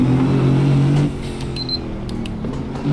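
A Bugatti Chiron Pur Sport in the Assetto Corsa racing game roars through a tunnel with a loud, steady engine drone, then the pitch and level drop abruptly as it downshifts, followed by brief crackles.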